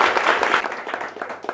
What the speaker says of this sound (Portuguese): Dá uma forte salva de palmas para Deus